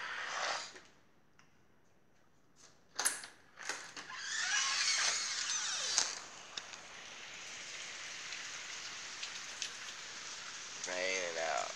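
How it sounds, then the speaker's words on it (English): Steady rain falls outside, a soft continuous hiss heard through an open door after some brief clunks and handling knocks, with a person's breathing nearby. "Raining out."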